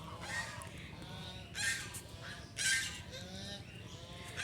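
Ducks call with loud, nasal honks in short bursts, several birds quacking close by at irregular intervals around a village home.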